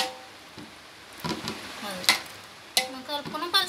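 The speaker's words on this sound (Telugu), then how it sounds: "ఆ వేడి నీళ్ళు కొంచెం ఇట్లా వేసుకొని కలుపుకోవాలి" Rice flour batter for vadiyalu being mixed by hand with hot water, a few wet slapping, squelching strokes separated by pauses, close and fairly quiet.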